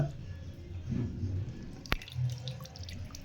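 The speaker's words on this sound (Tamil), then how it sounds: "இங்க தண்ணி ஊற்றி நல்லா அலசிட்டு" Vallarai greens are rinsed and squeezed in water in a home kitchen, with soft splashing, sloshing and dripping at close range, a sharp knock partway through, all fairly quiet.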